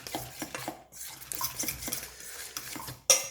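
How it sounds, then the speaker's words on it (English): Coriander leaves are mixed into a chickpea flour batter for a savoury pancake, with a utensil making close, rhythmic scraping and clinking strokes against the bowl for a few seconds and no talking. "I'm going to add in the coriander leaves. And I'm just going to mix that through."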